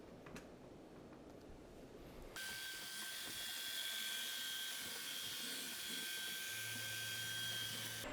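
A Midea M7 Pro robot mopping vacuum starts up: quiet room tone, then a sudden steady motor whine and hiss that hold at even loudness, with a low hum joining near the end.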